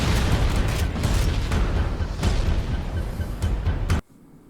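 Rocket launcher blasts fired by Flood enemies in Halo: Combat Evolved, a dense run of loud booming explosions layered over constant rumbling chaos, cutting off abruptly near the end.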